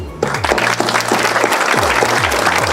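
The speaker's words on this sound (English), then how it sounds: "give a huge round of applause for yourself first for beginning this journey" Loud, dense applause from students at a business school orientation, a continuous wash of clapping with some low murmuring or voices blended in beneath it.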